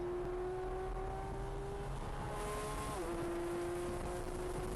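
A Porsche GT3 RS engine screams near 9,000 RPM on track at Utah Motorsports Complex, a sustained high-pitched wail that holds then drops sharply in pitch on a gear change before climbing again, heard from a distance.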